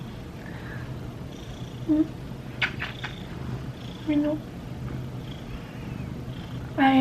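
Pet cat Mino purring softly close by, with a few short meows rising over a steady low rumble while someone speaks affectionately to it.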